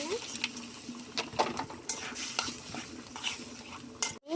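Turmeric, coriander powder, mixed spices and sugar fried and stirred in an old, blackened iron wok for a bean-seed curry: repeated close metal scraping and clinking over a constant sizzle.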